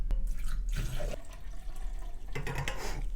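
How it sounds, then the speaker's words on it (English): Homemade super-hot pepper tincture is poured into a small bottle, with trickling, splashing liquid in two short bursts and a faint gurgle between them, close and moderately loud. "Let's pour it in here and see if it holds."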